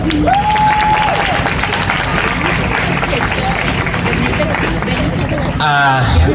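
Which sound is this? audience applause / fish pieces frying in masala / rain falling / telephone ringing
audience applause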